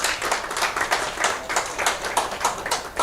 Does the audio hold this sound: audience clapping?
yes